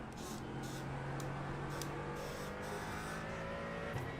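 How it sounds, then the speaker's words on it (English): A race car at the Nürburgring 24 Hours in iRacing drones steadily at high revs, its engine note shifting slightly near the end as it changes gear, with no voices over the continuous roar. "It did sound a little bit different with the gear change."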